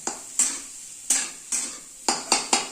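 Potatoes being stirred and sautéed in a pan make a run of about seven sharp spoon scrapes against the metal, irregularly spaced over a soft sizzle, close and without voices.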